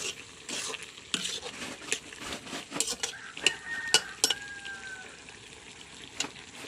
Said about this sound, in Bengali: তরকারিটাকে আর একটু নাড়িয়ে নিলাম